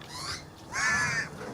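Crows at a roosting tree giving two drawn-out, raspy caws, the second longer and stronger, heard close with no talking.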